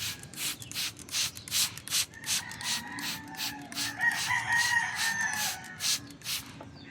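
A rooster crows repeatedly nearby on a small vegetable-growing plot, its calls rising over a steady rubbing, scraping noise in the background; no one speaks.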